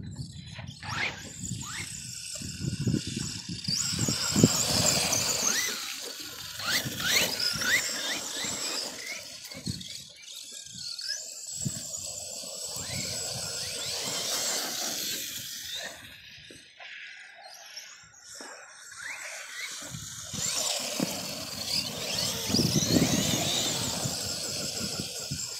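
An Arrma Granite 4x4 brushless RC car runs outdoors in the cold, its high electric motor whine rising and falling as it passes near and far, with some faint voices in the background.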